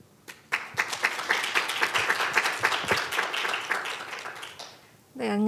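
A conference audience at a youth session on peace and sustainable development goals claps to welcome a presenter to the podium. The applause is moderate and steady with distinct claps, then fades as a voice begins speaking at the end.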